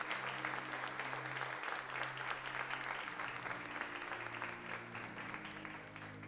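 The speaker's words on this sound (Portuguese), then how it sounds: "Aplauda Ele, glorifique o seu nome." A church congregation applauds God during a sermon, the clapping steady and fairly distant, with a sustained low organ or keyboard tone underneath and no speech.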